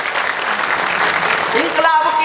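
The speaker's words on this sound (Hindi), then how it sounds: "तालियां चाहिए साहब" An audience applauds at a Hindi poetry recital with a broad wash of clapping that runs throughout. A voice comes in near the end.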